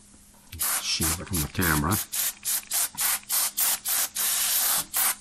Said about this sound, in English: We're going to go ahead and put some nice oven cleaner on this.